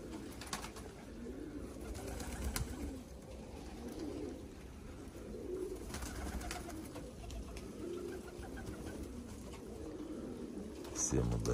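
Marble-necked pigeons coo softly and repeatedly at a distance, low rolling calls layered over quiet room noise with some faint background sounds.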